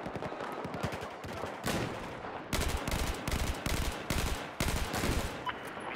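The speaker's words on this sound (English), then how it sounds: "Who's shooting?" Automatic gunfire in the video game Battlefield 4 comes in rapid bursts of repeated loud shots, separated by short gaps, with a dense battle din behind them.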